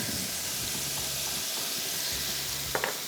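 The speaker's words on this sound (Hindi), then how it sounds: "जिसमें अदरक लहसुन शामिल होगा, उसको फ्राई करेंगे।" Ginger and garlic fry with onion and tomato in a pan for Bombay biryani. A steady close sizzle and hiss runs throughout, with a few faint stirring knocks and no talking.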